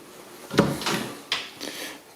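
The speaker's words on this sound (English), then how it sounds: "Pull-out drawers," Pull-out drawers in custom maple kitchen cabinets slide open and shut, giving two quiet wooden rumbles, each ending in a soft knock, in a still room.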